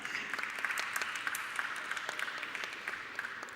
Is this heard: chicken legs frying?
no